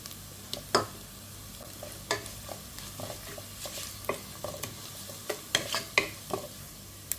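Masala with a half teaspoon of pepper powder roasting in a pan for a jackfruit dish, giving a soft sizzle broken by scattered scraping stir strokes, close by with no talking.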